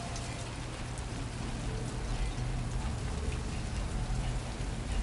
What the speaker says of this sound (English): I love how it's raining.